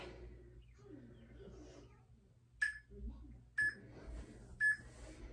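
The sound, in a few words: workout interval timer counting down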